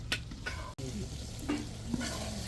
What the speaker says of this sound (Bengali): একটু নাড়াচাড়া দিতে হবে ঘন ঘন, না হয়তো লেগে যাবে নিচে।